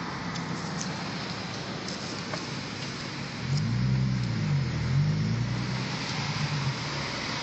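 An Audi S5 with an aftermarket exhaust idles with a low hum, then a rev swells into a deep, wavering growl for a few seconds before settling back to a steady rumble outdoors.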